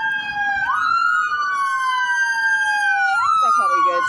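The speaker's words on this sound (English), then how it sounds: "Lord, we pray that whoever's in that ambulance, you will heal them in Jesus' name" An ambulance siren wails nearby, sweeping up and down in long two-tone cycles, loud and continuous throughout with faint background noise.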